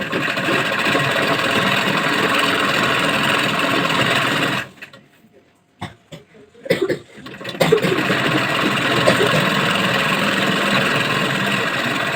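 A sewing machine runs steadily while stitching the top of an umbrella-style garment, stops for about two seconds with a few clicks and knocks, then starts up again and keeps running loudly and close.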